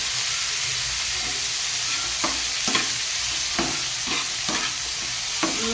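Onions frying with a splash of vinegar in a pan for momo filling, a continuous loud sizzle broken by several soft scraping stirs, with no talking.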